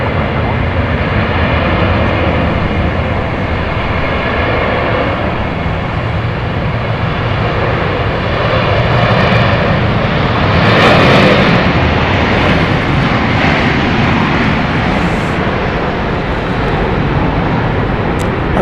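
An airliner on flight 2373 to Las Vegas taking off from Dallas Love Field, a loud, sustained jet roar swelling slightly toward the middle, with a voice talking over it.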